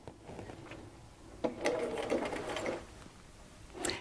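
A sewing machine stitches seams on fabric with bias tape, running in two short close bursts of rapid mechanical whirring separated by brief pauses, alone with no talk.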